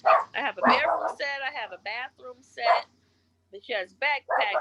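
A small house dog barks at home during an interview conversation, sharp yaps overlapping a woman's close, continuous speech.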